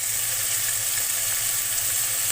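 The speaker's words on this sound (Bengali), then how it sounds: "এই মশলাটা হালকা করে কষিয়ে নেব" Spice paste frying in oil in a pan for a magur fish curry with drumstick stalks and potato, a steady close, loud sizzle with a soft crackle throughout and no talking.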